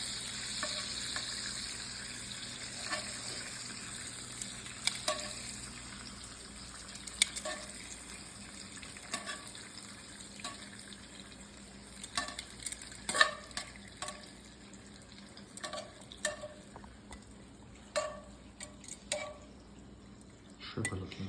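Shrimp cooking in a pan with wine, a steady low sizzle running throughout with intermittent clinks and scrapes of stirring, moderately close and quiet, no voices.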